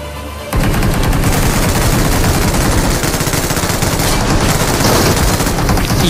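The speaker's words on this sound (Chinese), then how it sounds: "对面有枪声" Sustained automatic gunfire from the mobile battle-royale game PUBG Mobile, rapid bursts running loud and continuous for several seconds after a brief quieter start, with no voices over it.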